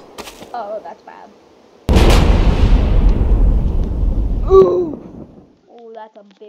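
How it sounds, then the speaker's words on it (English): A sudden big explosion in the Henry Stickmin flash game, a loud booming blast that rumbles and decays over a few seconds, with a person talking before and gasping after it. "Explosion."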